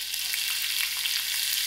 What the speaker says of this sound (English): and allow my onions to fry out.